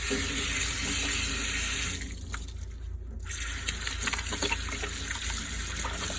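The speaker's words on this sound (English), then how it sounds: "Now I can rinse." Hands being rinsed under a running tap at a sink, a steady gushing stream that thins briefly midway, then splashes return as the hands move under the flow.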